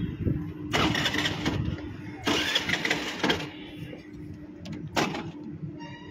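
A BMW car starts up, with a few loud bursts of engine cranking and revving separated by quieter idle rumble, heard close by.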